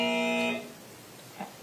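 A courtroom buzzer gives one steady electronic buzz of about half a second during a murder trial penalty phase, followed by quiet room tone and a faint thump.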